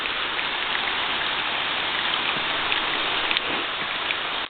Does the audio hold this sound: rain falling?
yes